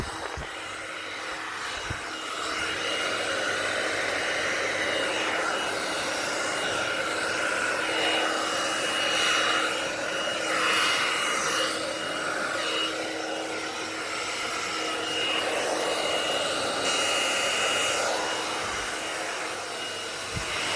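A blower pushes acrylic paint across a black-based Dutch pour with metallic colors, a continuous breathy rushing whoosh of air that swells and fades slightly as it moves, close and fairly loud, with no talk.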